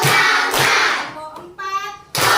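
Classroom pupils clap their hands in rhythm together, loud close bursts of clapping separated by short pauses, with a quieter tonal sound in between.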